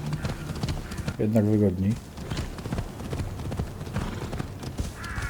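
Horse hooves clip-clopping while riding in Assassin's Creed Odyssey, a steady galloping patter with a brief neigh early on, under someone speaking Polish.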